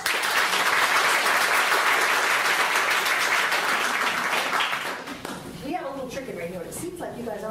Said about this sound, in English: please applaud with gusto